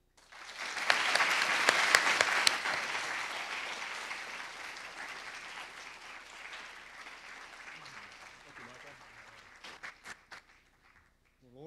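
An audience at an evening architecture lecture applauds to welcome lecturer Michael Webb, swelling quickly into full clapping, then slowly thinning and fading, with a few scattered claps and a voice starting up at the end.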